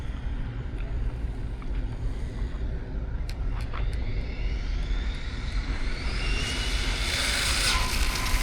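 An Arrma Typhon RC car running on 6S power at full throttle, a steady high-pitched motor whine that builds louder toward the end over continuous broadband wind and road noise.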